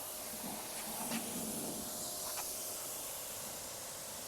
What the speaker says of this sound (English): the cleaner I'm using today is supposed to be the undercarriage cleaner